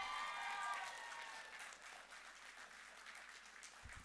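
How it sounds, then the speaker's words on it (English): A graduation audience at Doltone House Hyde Park claps for a staff member; faint, steady applause from a distant crowd, fairly even throughout with no voices over it. "She deserve a more clap,"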